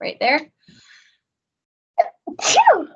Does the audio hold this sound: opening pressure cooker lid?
no